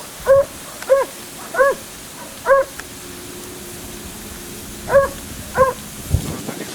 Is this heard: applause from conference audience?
no